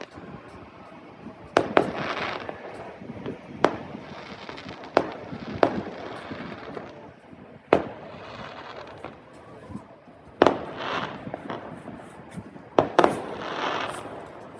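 Canada Day fireworks burst one after another at irregular intervals, sharp booms with crackling tails, some close together near the end, heard outdoors at dusk with no talking.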